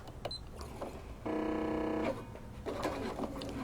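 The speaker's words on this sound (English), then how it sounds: "I'm going to do a little back stitch" A domestic sewing machine back stitches at a stitch length of 3 on a holiday bench pillow cover: a steady, close mechanical whir of rapid needle strokes for about a second, with quieter handling noises before and after.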